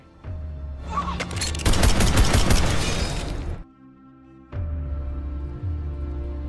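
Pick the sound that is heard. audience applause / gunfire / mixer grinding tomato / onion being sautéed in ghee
gunfire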